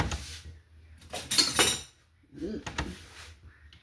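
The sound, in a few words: getting a spoon, cutlery clinking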